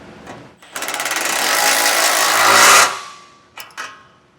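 Bolts on a Blue Ox base plate kit being tightened on a 2022 Ford Ranger with a power tool, one long loud rattling burst of ratcheting impacts followed by two short bursts, with no talk.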